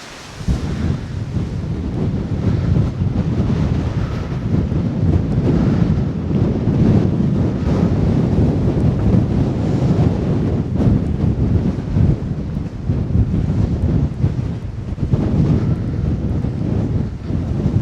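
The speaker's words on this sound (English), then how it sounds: "constantly fighting this wind and not knowing how much of what I say is being picked up" Strong coastal wind battering the microphone on a walk near Costa Teguise, a loud, continuous low rumble with gusty buffeting and no pauses throughout.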